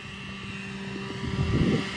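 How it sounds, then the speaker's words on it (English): A Ryobi electric leaf blower runs steadily with a smooth, continuous whirring drone that swells slightly louder toward the end, with no voices over it. "Oh my God, they got Derek an electric blower."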